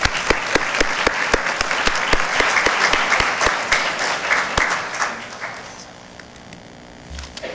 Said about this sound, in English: Let's give all our award winners one final round of applause